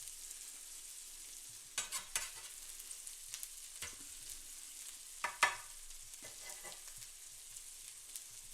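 Smash burgers sizzle on a hot griddle, a soft steady frying hiss broken by a few sharp scraping and stirring clatters, with no talk.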